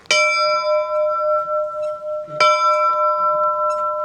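Two loud metallic strikes of a church bell, one at the start and one about two seconds later, each ringing out with a long, sustained humming tone and no talking over them.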